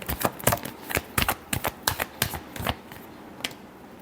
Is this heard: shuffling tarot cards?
yes